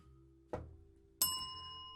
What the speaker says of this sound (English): You didn't hit the bell. Hit the bell.